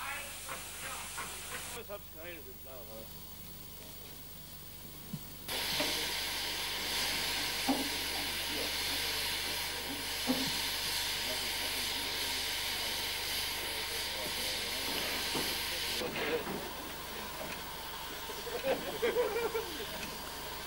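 A class 44 steam locomotive stands at rest in evening light, releasing a loud, steady broadband hiss of steam that starts after a quieter opening and continues for most of the stretch, with faint voices and low rumbling beneath.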